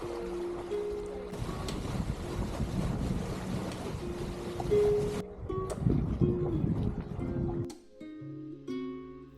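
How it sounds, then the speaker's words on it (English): A hired sailboat runs under full main and head sail around Whitsunday Island. Steady wind rush and water noise fill the clip, with light music laid over the top. "So we're full sail on the main and the head sail"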